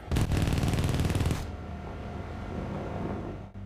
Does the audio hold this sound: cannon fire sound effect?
yes